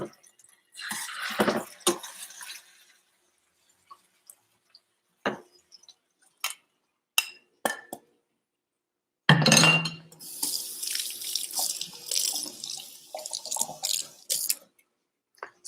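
Salmon fillet hitting hot oil in a pan, with a sharp burst of sizzling that settles into a steady, crackling fry; a few scattered clinks and kitchen noises come before it.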